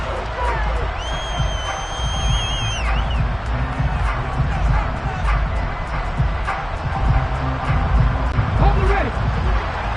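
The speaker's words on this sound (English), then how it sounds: "How about some applause for the defense there?" A football stadium crowd cheers and applauds the defense, a loud sustained roar with whoops and whistles mixed with announcer-style talk.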